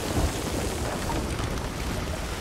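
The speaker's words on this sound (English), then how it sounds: "Storm got awful dark, though." Thunderstorm with heavy rain at sea in the pirate video game Sea of Thieves: a dense, steady wash of rain noise with low rolling thunder rumbles, loud and continuous throughout with no voices.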